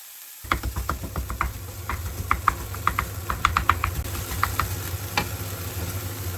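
Raw lamb heart and liver sizzle in a pan with salt, a steady low frying hiss broken by many sharp crackles and pops that come in clusters and stay fairly close.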